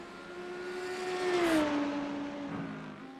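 Race cars in the iRacing sim of a GT3 championship round at Imola pass on track, engine tones rising and falling as traffic goes by, swelling to a loud peak midway then easing off, with no talk.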